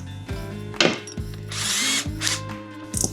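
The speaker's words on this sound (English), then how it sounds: "I'll still do my pilot and I'll do a little countersink." A power drill countersinking a pilot hole in plywood, with several short whirring bursts that spin up and stop, including one longer run, close and loud with no talking.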